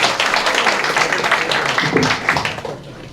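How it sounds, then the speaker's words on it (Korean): Applause from a forum audience in Busan greets a family walking onto the stage, full and continuous clapping at close range that eases off in the last moments. "여러분 성원의 박수 부탁드리겠습니다."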